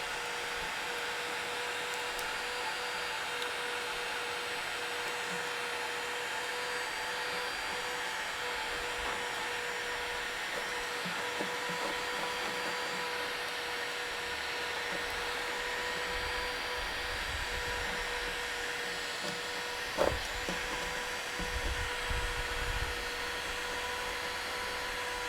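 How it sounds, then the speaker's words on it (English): A heat gun blows a steady, continuous whir with a faint tonal hum while it softens sticker adhesive on the hull of an old fishing skiff; a brief bump and some scraping noises occur near the end. "all the heat gun's really going to do is loosen it up and soften up the adhesive."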